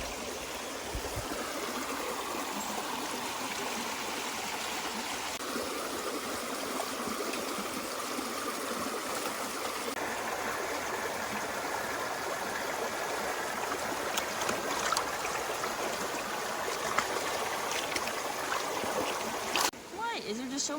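A stream of flowing water in Coopers Rock State Forest, a steady rushing wash heard close by throughout, with people talking over it at times.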